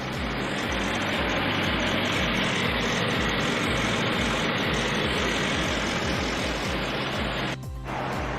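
A 2015 Bentley Continental GT V8 S idling, a steady low engine rumble with a regular throbbing pulse, close and continuous, with a brief dip near the end.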